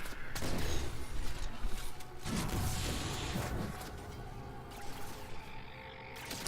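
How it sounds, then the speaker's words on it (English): Repeated energy-weapon shots from a binary rifle in the video game Halo 4 on Legendary difficulty, mixed with loud game effects, explosions and whooshing debris across a busy battle soundscape. "So there's the binary rifle."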